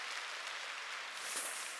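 An audience at a sales academy seminar claps together in a dense, steady wash of applause that stays even and moderately loud for its whole length.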